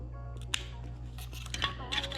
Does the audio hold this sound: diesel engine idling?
no